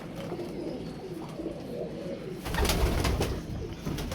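Teddy pigeons cooing outdoors in a loft setting, soft low coos running steadily throughout with a louder burst of fluttering or movement in the second half.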